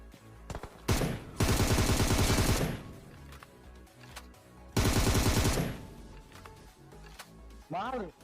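M249 machine gun fire in PUBG: two loud sustained automatic bursts, each over a second long, plus a few single shots, with talk in between.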